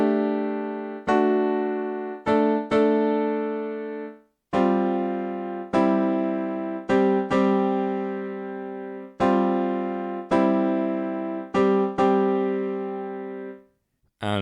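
Kurzweil Rhodes electric piano preset layered with piano plays a series of sustained chords, struck in irregular groups of repeated attacks with long decays, loud and alone with no talk.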